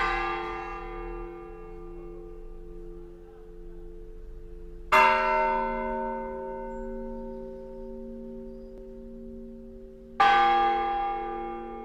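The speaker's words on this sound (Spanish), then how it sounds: "Ya se oye cómo repican las campanas" Church bells ringing in slow succession, three separate loud strikes each followed by a long ringing decay, with quiet background between them.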